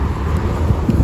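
Wind gusting on an outdoor walk around Subic Bay, a steady low rumbling buffet against the microphone that stays loud and even throughout the short stretch.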